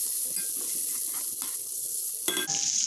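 Mushrooms and onion sizzling in a hot pan, a continuous bright frying hiss with a few soft stirring scrapes and a sharper clatter near the end, no voices.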